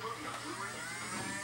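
A small electric flywheel motor in a Rapidstrike toy blaster whirs with a faint, steady high-pitched buzz, revving continuously at close range with no talking.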